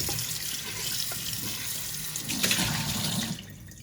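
Tap water runs steadily as Calphalon cookware is rinsed inside, a continuous close splashing hiss with slight changes as the pan moves under the stream, then easing off at the end.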